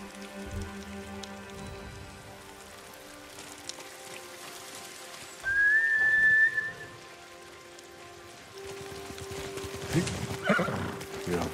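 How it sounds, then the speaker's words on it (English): Horse neighing in the video game Ghost of Tsushima, a single clear whinny rising midway over steady rain and ambient game sounds, with soft hoof clip-clop and a second stir of noise near the end. "You're a good horse, Nobu"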